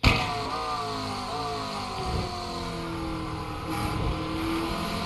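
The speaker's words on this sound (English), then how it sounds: "see, I'm on and off the throttle" GT3 race car at Catalunya in iRacing, engine note rising and falling as the throttle is pressed and released, a steady buzzing drone with shifting pitch throughout.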